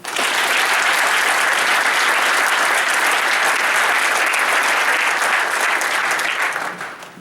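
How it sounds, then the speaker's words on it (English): An audience at a high school football orientation for parents and players applauds last year's returning alumni. The clapping is dense and steady for about seven seconds, then fades at the end. "Clap them up again."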